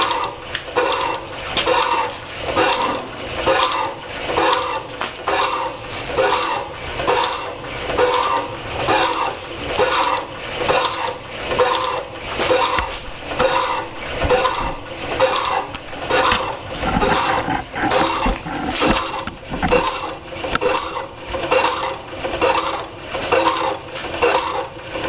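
A Delta / AMMCO 7.5 inch metal shaper runs steadily, its ram stroking back and forth in a regular rhythm of about one cycle per second, with clanking, clicking mechanical noise close by and no talking.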